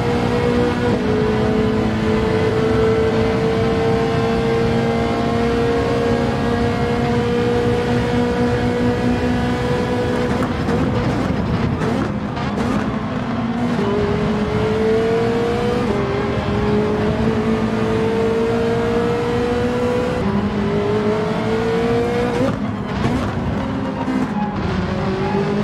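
Race car engine in Gran Turismo 7 revving high and climbing through the gears, with pitch rising and then dropping at each upshift. The engine drones loud and steady throughout, with no voices.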